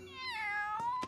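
A pet cat gives one long, drawn-out meow that bends downward in pitch, close and clear, with a short scuffling rustle near the end.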